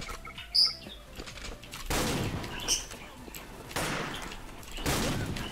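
A pump shotgun fires in an online shooter video game: three loud, sharp blasts spaced about a second or two apart stand out over quieter game sounds, with no talk during the shots.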